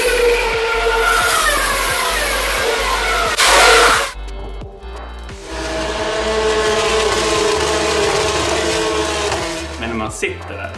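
Formula 1 cars at the Hungarian Grand Prix roar past as loud, sustained high-pitched engine noise with a brief lull midway, then another wave of racing engines building back to full volume.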